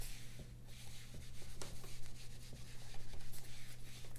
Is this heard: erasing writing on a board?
yes